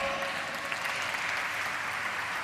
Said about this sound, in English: keep your claps going